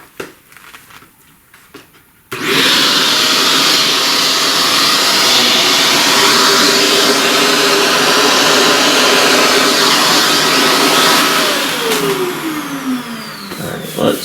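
A vacuum cleaner used on a pastel flower drawing switches on abruptly after a quiet moment, then holds a loud, steady whining roar for about ten seconds before tapering off.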